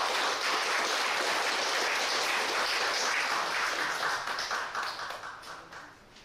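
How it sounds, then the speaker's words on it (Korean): Dense clapping from a lecture audience at a speaking contest in a Yeouido Won-Buddhist temple hall, steady for several seconds and then tapering off toward the end. "한 박수를 보내주시기 바랍니다"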